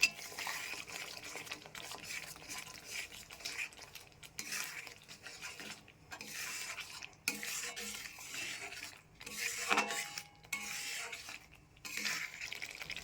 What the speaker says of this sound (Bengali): এবার কাজু আর পোস্ত বাটা দিয়ে মশলার সাথে ভালো করে কষিয়ে নেব।